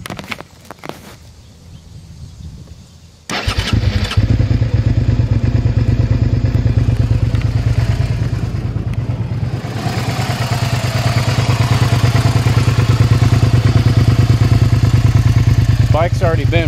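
A 2005 Suzuki SV650S motorcycle, already warm, cranks briefly and fires up, then settles into a loud, steady, close idle that runs on for many seconds.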